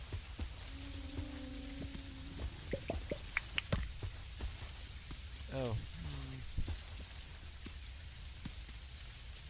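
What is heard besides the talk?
rain in the video game Dinkum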